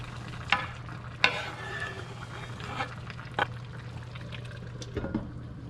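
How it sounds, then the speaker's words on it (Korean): Korean braised chicken stew (dakbokkeumtang) simmers in a deep pot at home, giving a faint, steady bubbling over a low hum, broken by a few soft clinks and stirring knocks. "뚜껑 닫고 조금만 더 끓여주겠어요"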